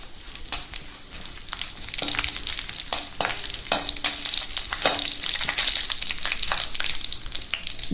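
Red chilies frying in hot oil with popping mustard seeds in a pan, a steady crackling sizzle punctuated by sharp pops and occasional stirring scrapes, close and moderately loud.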